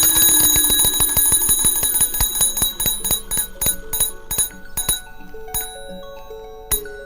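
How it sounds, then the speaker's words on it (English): The bell of an early electric telegraph signal rings in a rapid, loud train of metallic strikes. The strikes gradually slow and space out, ending in a few isolated dings. "which releases a ball and triggers a bell"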